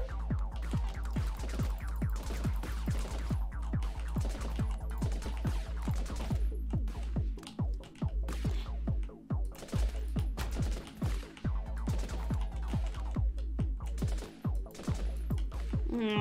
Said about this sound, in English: I still prefer the machine gun